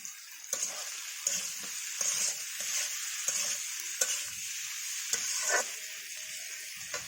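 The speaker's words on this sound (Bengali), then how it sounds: "এবার দিয়ে দিব এই ভেজে রাখা মাংস" Pre-fried chicken pieces for chilli chicken are stir-fried in a pan, giving a steady hiss of sizzling oil broken by repeated scraping strokes of a spatula, close and moderately loud, with no voices.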